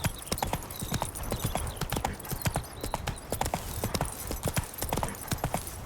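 Roach, Geralt's horse in The Witcher 3, trots along with steady, close clip-clop hoofbeats that repeat at a quick, even rhythm, with no talking over them.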